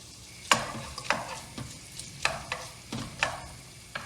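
Sharp clatters of a utensil stirring meat and butter in a hot pan, repeating every half second or so over a faint background sizzle, close and fairly quiet.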